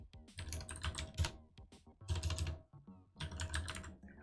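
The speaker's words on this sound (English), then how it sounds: "I'm typing faster than Rust Analyzer can keep up with me." Fast typing on a computer keyboard during a programming session, heard as three bursts of rapid, close key clicks separated by short pauses, with no voices.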